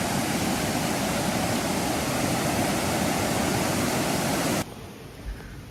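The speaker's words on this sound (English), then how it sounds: "the creek is flooding, and I got to move the art bus before it gets to where it's not rescuable" Floodwater from a creek rushing past in a loud, steady broadband roar close by, cutting off abruptly near the end to a quieter background.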